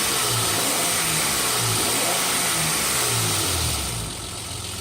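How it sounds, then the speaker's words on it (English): A turbocharged BMW E34 engine runs steadily with a smooth, even engine drone, close and loud, easing off slightly near the end. "You can hear it's running perfectly smooth."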